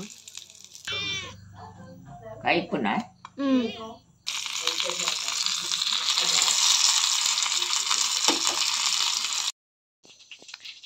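Fish fries in a hot pan with a dense, close sizzle that runs steadily for several seconds after a stretch of talking, then stops abruptly.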